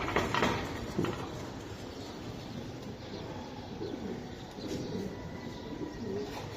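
Racing pigeons of the homer type coo softly in a loft, a low burbling murmur running steadily under a busy, noisy room with no one speaking.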